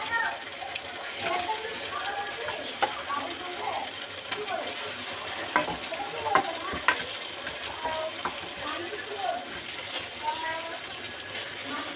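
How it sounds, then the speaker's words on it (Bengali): Chicken pieces frying in a pan of browned oil, a steady broadband sizzle with scattered crackles and spatters running throughout, close and moderately loud, with occasional utensil clinks. "আস্তে আস্তে আমরা চিকেনগুলো এখানে দিয়ে দেবো।"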